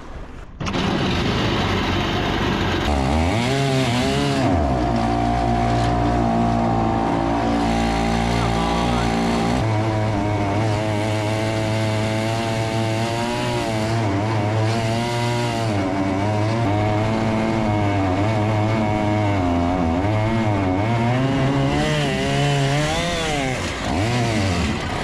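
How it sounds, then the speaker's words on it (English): A micro boat powered by a chainsaw motor roars and revs loudly and continuously, its pitch rising and falling as the throttle changes, close by. "so chainsaw motor, lot of effort, not much good."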